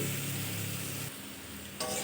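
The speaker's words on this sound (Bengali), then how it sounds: "কাঁঠালে বিচিটা ভেজে নিচ্ছি" Boiled jackfruit seeds fry in a pan, a short burst of dense, even sizzling close by that briefly drops in intensity, then picks up again.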